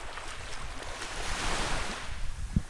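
Ocean surf rolls in at a beach beside a fishing pier, a steady broad wash of waves with wind buffeting the microphone and a faint thump near the end.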